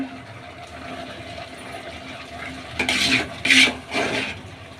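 Spice powders, coconut gratings and curry being stirred in a pan, a low simmering bed followed by several close scraping strokes of a spoon against the metal.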